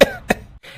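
A neighbour coughs from burnt tempering smoke drifting out of a kitchen, two sharp close coughs in quick succession followed by a faint breathy rasp.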